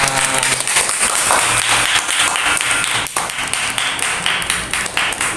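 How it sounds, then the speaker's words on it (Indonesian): An audience in a classroom or lecture on Pancasila democracy breaks into loud, sustained applause, dense clapping that continues evenly for several seconds, close and without talking. "tepuk tangan yang meriah"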